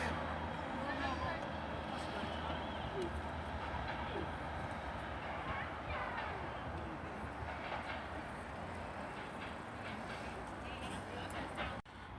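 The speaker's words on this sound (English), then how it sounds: "coming in now is the 1536 TransPennine Express service heading for Manchester Piccadilly" A TransPennine Express passenger train bound for Manchester Piccadilly pulls into a station, a steady loud rumble of engine and wheels on rail running without a break from start to finish, with faint talk beneath.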